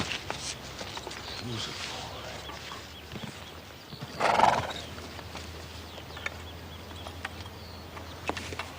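A lame horse whinnies in a brief burst amid scattered hoof clops and light background noise.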